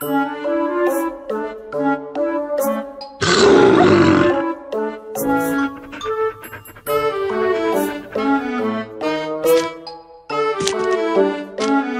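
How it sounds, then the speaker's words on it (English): A loud roar in a children's puppy rescue animal-doctor game, meant to frighten off menacing dogs, bursts out for about a second over cheerful, bouncy game music. "Roar to threaten those bad dogs away!"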